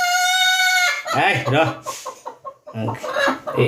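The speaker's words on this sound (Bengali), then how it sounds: "আর ডিমের সাথে এবার মুরগি বসিয়ে দিছি আমি" A hen brooding on a clutch of eggs gives a drawn-out, tonal call close by, and voices then talk over soft clucking.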